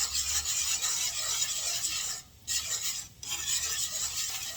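A whisk scrapes steadily around a pan of cream cheese, butter and oil sauce for Cajun chicken Alfredo, a continuous close rasping stir with two brief pauses, no voices.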